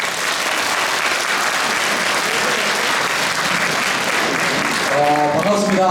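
A large audience claps loudly and continuously to welcome a professor to a lecture hall, a dense, even roar of hands, until a voice begins speaking over the fading applause near the end.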